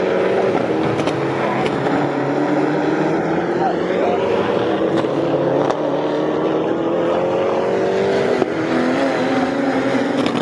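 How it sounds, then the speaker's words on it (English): Ginetta GT4 race cars accelerate up toward the first corner at Snetterton during a GT4 Supercup championship race, a continuous loud engine roar with shifting pitch under a commentator's voice. "Accelerating now up towards that first corner."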